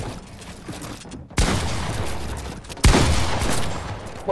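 Rapid automatic fire from a tactical SMG in a video game, heard as two dense sustained bursts, loud and close, with no talk over them.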